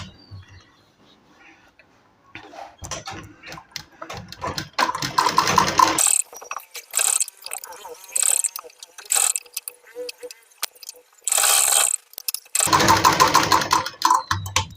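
A sewing machine stitching a kameez sleeve seam with a half-inch allowance, running in close, loud mechanical bursts of rapid needle clatter separated by short pauses as the fabric is repositioned.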